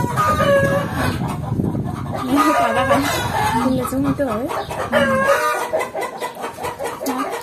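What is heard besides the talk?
hens clucking as they are about to lay eggs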